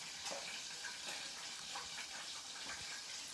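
Cream cheese puffs deep frying in hot oil make a continuous faint, crackling sizzle with scattered small pops and no voices.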